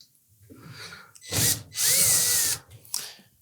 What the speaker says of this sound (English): So we'll go to the back of the cabinet and reinstall those screws.